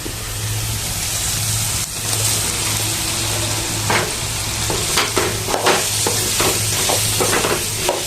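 Potatoes frying in a pan of kurma, a steady sizzle under repeated scraping stirs and clinks of a spoon against the pan, close and continuous throughout.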